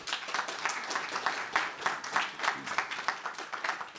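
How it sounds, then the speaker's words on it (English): An audience gives a panel on social media and the music industry a round of applause, a dense patter of many hands clapping at moderate distance, steady for the full stretch with no voices. "If everyone gives them a quick round of applause."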